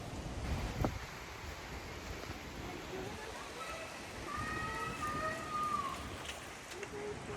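Steady rain and gusting wind outdoors during a hurricane, a constant wash of noise with buffeting wind on the microphone and faint birdlike calls in the background.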